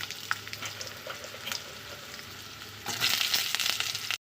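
Ridge gourd hits hot oil seasoned with dry chili and bay leaf, setting off a steady crackling sizzle that swells louder and brighter near the end before cutting off abruptly.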